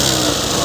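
A Suzuki Access 125 scooter engine with a late-starting problem turns over and runs, giving a brief, steady, high-pitched buzzing whir close by with no talking.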